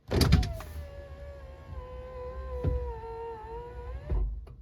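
A BMW E46 power window motor whirring as the slightly off-track glass moves, a steady electric whine lasting a few seconds, ending with a thunk.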